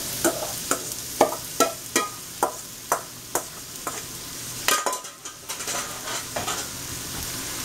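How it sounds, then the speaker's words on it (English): Vegetables sizzle in melted butter in a pan for shrimp creole, a soft, steady frying hiss broken by a regular series of sharp clinks and scrapes from stirring, quiet overall and without talk. "we got some butter melting. And I'm going to put all of the vegetables"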